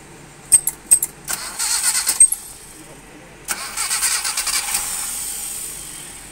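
An engine cranks in a few short bursts, falls quiet, then cranks again and catches, settling into a steady running idle as it warms up, fairly close and loud.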